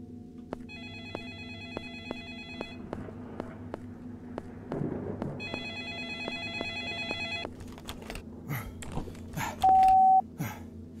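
Telephone ringing inside a video game, two bursts of repeated electronic ring tones over a low ambient game drone, with brief beeps and clicks later on.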